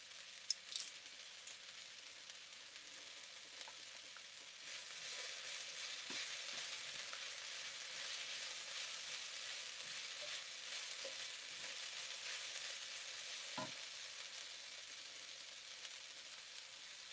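Garlic frying in a pan as it is stirred in for a leftovers soup, a steady soft hiss with faint scrapes and a couple of light clinks, quiet and without voices.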